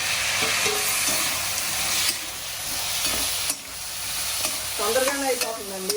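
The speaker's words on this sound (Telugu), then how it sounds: "తర్వాత ఇక టమాటా వేసేస్తున్నాం రెండు టమాటాలు" Tomatoes fry with ginger-garlic paste in a hot pan, a dense continuous sizzle and hiss with occasional stirring scrapes, close up, and a brief voice near the end.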